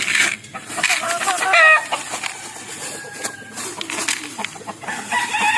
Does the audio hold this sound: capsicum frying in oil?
no